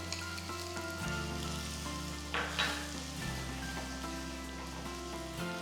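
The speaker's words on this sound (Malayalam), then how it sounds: "ഇഞ്ചി ഒരെണ്ണം ഫൈനായിട്ട് ചോപ്പ് ചെയ്തത്, എന്നിട്ടൊന്ന് സോട്ടേ ചെയ്യുക" Finely chopped ginger sautéing with chili powder in a pan, a steady soft sizzle under sustained background music, with a brief brighter crackle partway through.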